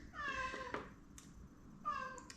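A hungry indoor cat meows twice, each a clear, close, drawn-out call with a short gap between them, alone with no talk.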